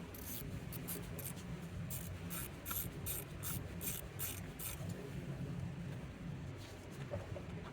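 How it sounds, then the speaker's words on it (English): A ratchet clicking rapidly in quick bursts while loosening the steering wheel bolt on a 2006-2013 Mercedes S-Class W221, over a steady low background hum. "find the bolt in there, and now loosen that one also."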